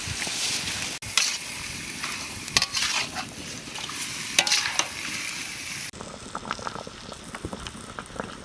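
Chicken frying in a pan for palak chicken fry crackles and sizzles steadily while a utensil stirs it, sharp scraping clicks breaking through the broadband hiss, close up with no talking.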